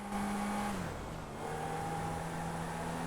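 A tuned car engine revs loudly and steadily in a Grand Theft Auto V game, its pitch dipping briefly before holding a sustained drone, with a barely audible dump valve.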